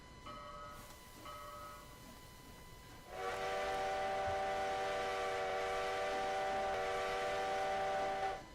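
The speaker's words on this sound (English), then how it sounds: "You can hear a slight loop with that as well, or at least in terms of the whistle." A train whistle from the Trackside railway video game blows a long, loud, steady multi-tone chord after two short soft toots, over a low rolling train rumble.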